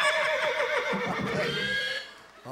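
A horse neighing sound effect plays on a Filipino TV game show, a loud, long, wavering whinny that fades out over a couple of seconds, with no talk over it.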